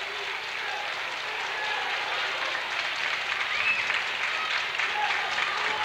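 Crowd at a high school basketball game between Robinson and Teutopolis cheers and applauds steadily, a dense, loud wash of noise that swells slightly toward the end, with some voices mixed in.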